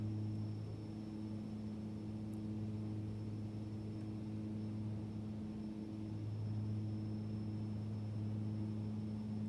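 Metroliner commuter turboprop engine in a video game running at very high RPM, a steady loud droning hum with strong low tonal bands and a faint high whine, continuous and unbroken.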